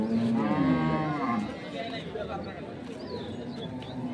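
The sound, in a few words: cow mooing at a cattle market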